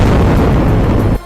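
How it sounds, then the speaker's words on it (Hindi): A loud explosion follows air strikes on a PKK militant position, a sustained low, rumbling blast filling the clip before cutting off abruptly near the end. "ताबड़तोड़ हवाई हमलों के बाद वहां जोरदार धमाका होता दिखाई दिया"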